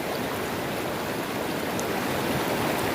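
Creek water rushes steadily through a hand-built rock wing dam on the East Fork where a Green Mountain Gold sluice trap is set, making a continuous, close, full-bodied gurgling wash with no voices.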